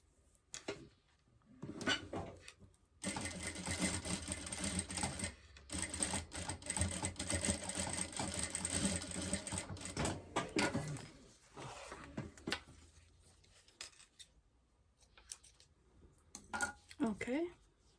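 A sewing machine top stitches the end of a zippered pouch in a steady, close whirring run of several seconds, with shorter bursts before and after and a few light handling clicks.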